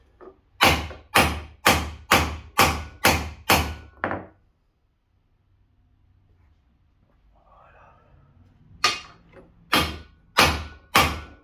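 A hammer drives a 32 mm socket onto the front right lower control arm ball joint of a Nissan. A fast run of seven loud metallic thuds comes first, then a quiet pause, then four more evenly spaced strikes.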